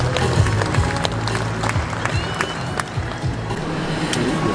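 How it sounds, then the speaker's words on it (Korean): An audience claps and cheers for the county governor taking the stage at the opening ceremony of the 2023 Yeongdong dried persimmon festival, dense continuous applause from a crowd outdoors with a low hum underneath. "여러분 무대에 올라오신 정영철 영동군수님을 뜨거운 박수로 환영해 주시기 바랍니다"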